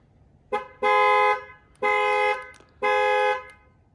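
Three loud, sustained horn blasts from a 2021 Cadillac XT5 sounding its alarm sequence, each honk lasting about half a second to a second with short gaps between, close and alone.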